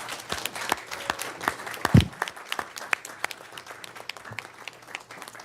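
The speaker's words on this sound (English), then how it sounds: "We want to give a round of applause for all of our competitors." A small group at a school board meeting claps in scattered, uneven applause for competitors, individual hand claps distinct and fairly close, lasting several seconds.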